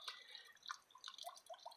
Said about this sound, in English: to see what it's like to have some water running directly into the pond